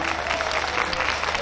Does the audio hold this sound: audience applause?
yes